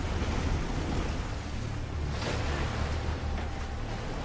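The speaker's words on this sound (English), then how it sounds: "Never underestimate the power of white moving water." White-water river rapids, a steady, loud, close roar of rushing water with no voices, heavy and unbroken throughout.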